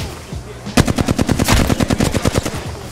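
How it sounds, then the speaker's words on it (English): Automatic gunfire rattles in a battle royale video game, a loud close burst of rapid evenly spaced shots starting under a second in and running steadily to the end. "There's someone shooting up the hill here."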